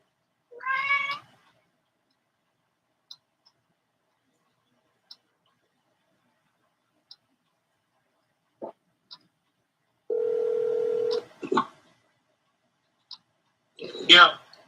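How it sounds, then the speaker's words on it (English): During a voice-activated phone call, a single steady calling tone sounds for about a second amid a quiet room. A cat meows before it, and scattered soft clicks and a rustle follow. "Call Devin Tesla. Would you like to use phone or simple?"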